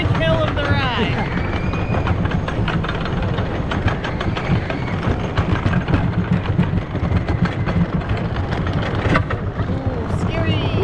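A roller coaster at Stricker's Grove climbs its first big hill, a steady mechanical rumble and clatter running the whole way, with talk over it and a sharp clank near the end.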